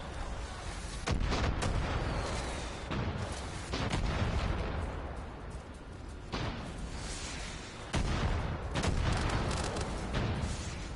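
Mortar fire in a Far Cry 5 arcade match, heavy booming blasts landing every couple of seconds amid a constant rumble of distant battle noise.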